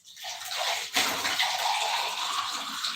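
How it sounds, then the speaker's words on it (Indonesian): Water pours steadily into a pressure cooker holding fish for pindang, a close splashing gush that starts after a brief silence and runs continuously with a slight surge near the one-second mark. "Kita masukkan air."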